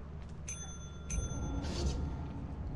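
A bell at the sell window in Lethal Company rings twice, bright and clear, one ring right after the other, followed by a soft rattling clatter over a low, steady hum.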